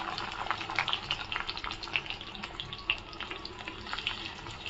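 Onions and green chillies fry in a pan for egg fried rice, giving a steady soft sizzle with crackling bursts throughout, fairly quiet and unaccompanied by talk.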